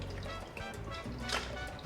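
Blended tomatoes for homemade Mexican salsa pour into a food processor in a steady, wet, sloshing stream, heard close and fairly quiet throughout.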